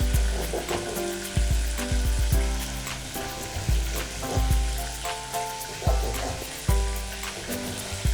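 Mutton legs sizzle and crackle loudly in a frying pot for Hyderabadi paya, with bursts of spattering as pieces drop in and are stirred, heard close and continuous.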